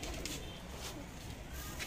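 Soft, low cooing from high-flyer pigeons murmurs through steady background noise, faint and continuous with no clear pauses.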